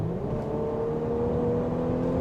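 A 2020 Mercedes-Benz GLC Coupe with a four-cylinder turbo engine accelerates, producing a subdued, steady engine hum that rises slightly in pitch with no talking.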